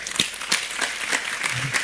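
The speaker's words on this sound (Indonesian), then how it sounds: "Bertahap ya, tepuk tangan ya." Audience applause at an Indonesian religious lecture, a steady wash of clapping that carries at an even level throughout, with a few sharper individual claps standing out and no clear speech over it.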